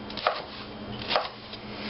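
A sharp knife slices poblano peppers into strips on a cutting board, with two distinct soft cutting thuds a second apart over quiet kitchen background hum, and no talking.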